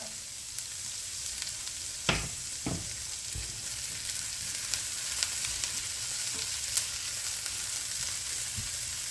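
Garlic sizzles as it drops into a pan of tomato spaghetti sauce, a steady soft frying hiss with a few sharp clicks and thumps near the start, no voices.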